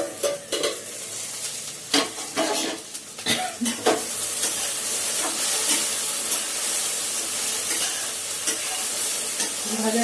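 Okra and potatoes frying in a pan, a steady sizzle and hiss with scattered stirring scrapes and clinks of a utensil against the pan, close up and continuous throughout.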